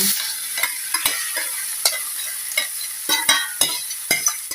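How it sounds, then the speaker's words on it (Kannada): Boiled vegetables tumble into hot oil with fried cumin in a pan, giving a steady close sizzle broken by repeated sharp scrapes and clatters of stirring, with no voices. "ಜೀರಿಗೆ ಫ್ರೈ ಆದಮೇಲೆ ಈ ತರಕಾರಿ ಬೇಯಿಸಿ ಇಟ್ಕೊಂಡಿದ್ದೇನಲ್ಲ, ಇದನ್ನೆಲ್ಲ ಹಾಕ್ತೇನೆ ಅದಕ್ಕೆ"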